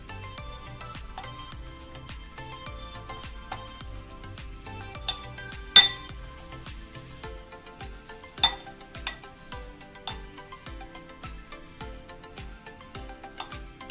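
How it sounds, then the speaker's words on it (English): Spicy corn with melting butter being mixed in a bowl, a spoon clinking and scraping against the dish in a steady rhythm with several sharper clinks, close and fairly quiet, no talking. "Now it's time to mix, my favorite part. Let's start mixing it."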